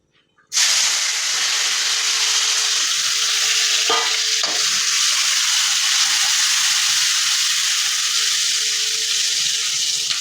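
Chopped onion and tomato sizzle in hot oil for a vegetable tempering. The frying starts abruptly and then holds as a loud, steady hiss throughout, with a couple of brief stirring clatters and no talk.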